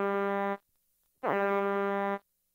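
Two long, steady honks of a horn sound from a 1994 Vtech Little Smart talking alphabet toy, each about a second long and separated by a short pause, loud and alone.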